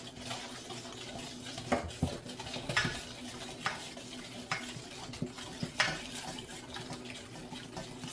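A milk mixture is poured little by little from a measuring cup into eggs and stirred for rice pudding: soft liquid trickling and splashing with scattered clinks of a spoon against a bowl, close and steady, with no talk.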